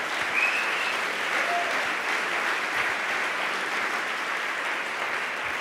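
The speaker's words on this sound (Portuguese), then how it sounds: "É você que tem que se aplaudir" A church congregation bursts into continuous, thick applause, an even wash of many hands clapping that stays loud and steady without pause.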